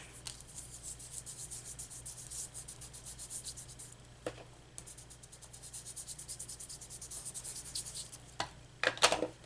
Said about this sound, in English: I'm just going to rub a little bit of this blue ink